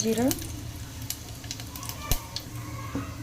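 Cumin seeds sizzle in hot oil for a mung dal curry, a soft steady crackle with scattered small pops close by and a few brief clinks.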